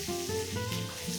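Oven-roasted meat laid into a hot pan sizzles loudly and steadily up close, a continuous searing hiss with no talk.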